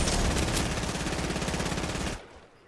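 Rapid automatic gunfire in a video game, a dense loud burst of repeated shots that runs for about two seconds and then cuts off abruptly.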